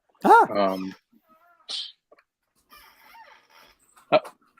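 A cat gives one clear, loud meow up close, followed by a few softer rustles and a short sharp sound, with brief speech.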